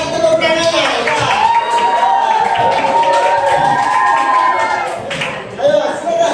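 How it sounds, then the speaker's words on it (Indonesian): Applause in a group classroom session as the next team is called up, with clapping and lively cheering and shouting voices carrying on for several seconds, then dipping briefly before a fresh burst. "Kasih tepuk tangannya."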